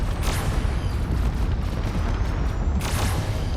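Missiles, railguns and lasers fire in the Drone Wars space combat game, producing a continuous low rumbling barrage of booms and blasts with a sharp burst near the end.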